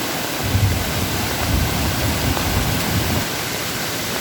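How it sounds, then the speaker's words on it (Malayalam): Torrential monsoon rain in Kerala on 28 May 2024, during the downpour that set off landslides around Vagamon, makes a continuous loud roar of falling water. It stays even and unbroken throughout, with no voices. "കഴിഞ്ഞ 28-ാം തീയതിയിലെ മഴ."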